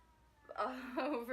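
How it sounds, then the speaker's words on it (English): A short, high, wavering meow, close by and fairly quiet, rising then trailing off, with no talking. "Oh goodness, that's my cat Tigger"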